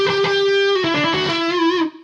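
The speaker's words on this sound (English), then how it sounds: "the thing I like about this blues driver is it's not going to give you that really heavy, sustained distortion" An electric guitar played through a Boss Blues Driver overdrive pedal, set to a light, unsaturated drive: a loud chord strummed repeatedly and then left to ring before cutting off.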